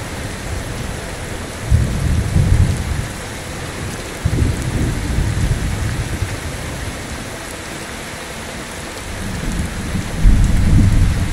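Steady rain pours from the True Storms weather mod in Skyrim, with several deep rumbles of thunder rolling in and fading over a constant hiss of rainfall.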